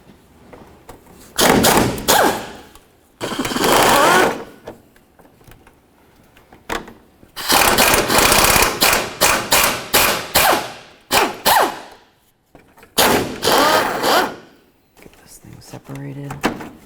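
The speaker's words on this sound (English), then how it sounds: "we're just going to continue on to removing the mounting bolts that I can see that are still holding" Bumper cover mounting bolts being removed from a 2004-2006 Scion xB, heard as loud bursts of rapid power-tool rattling and ratcheting separated by pauses, close up, with talk between the bursts.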